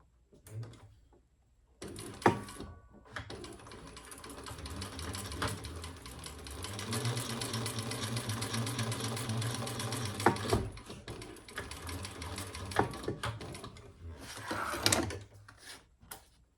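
A sewing machine stitches a wallet made from the Gemella wallet pattern, its steady mechanical whir running continuously for several seconds, slowing and pausing between short runs, close up with no talking.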